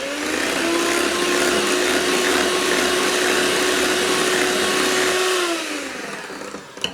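Electric mixer whirring steadily at close range for about five seconds as lemon juice is mixed into batter, then winding down and stopping.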